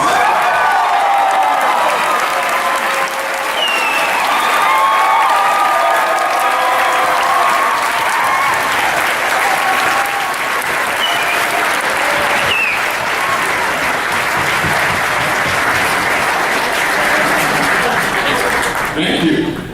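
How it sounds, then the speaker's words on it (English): A panel audience at the ScareLA Halloween Horror Nights event gives director John Landis sustained, loud applause with scattered cheers and whoops, clapping steadily for nearly twenty seconds before tapering off. "Please give a warm round of applause"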